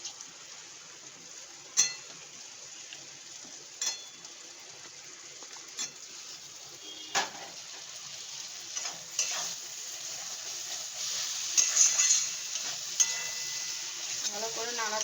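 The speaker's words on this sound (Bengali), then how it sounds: "ভালো করে নাড়াচাড়া করবো ক্যাপসিকামটা দিয়ে।" Capsicum frying in a pan while being stirred for a paneer curry, a soft continuous sizzle with occasional sharp clicks of a spatula against the pan, growing slightly busier toward the end.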